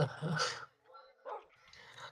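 A dog yelps and whimpers right after being hit, two short pained cries separated by a brief pause, close and fairly loud with no other sounds around.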